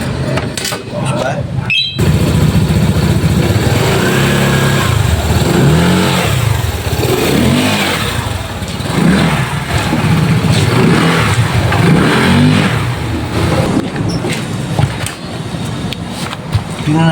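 A Euro Griffin 180i with freshly replaced engine support bushings idles and revs in short bursts, the engine loud and close throughout with some rattling and a person speaking over it.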